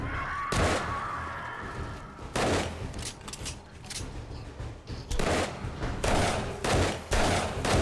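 Rifle gunfire in the video game 7 Days to Die: several loud, sharp shots spaced a second or more apart, each with a short rumbling tail, over constant game background noise. No one speaks.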